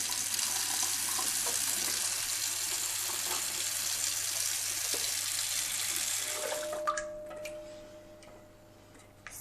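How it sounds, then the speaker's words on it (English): Cold water runs steadily from a tap into a sink, cooling homemade Manuka cream, a loud continuous gush that cuts off near the end, leaving faint drips and a quiet room. "So I'm going to put on the cold water now."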